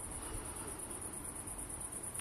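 Grasshoppers chirping on a warm night, a fast, continuous high-pitched trill that pulses evenly and never stops, over a faint, quiet background.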